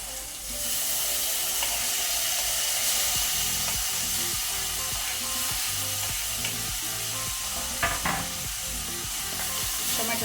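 Onions and two tomatoes frying in a pan for a corn, radish and dill leaf palya, a steady close sizzle with occasional stirring scrapes and clinks, no voice.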